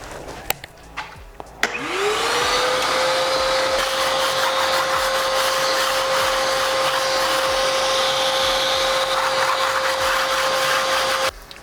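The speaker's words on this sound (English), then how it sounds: "Turn the vacuum on again for this." A vacuum cleaner switches on with a rising whine and then runs steadily and loudly at a constant pitch, with a few clicks and bumps before it starts.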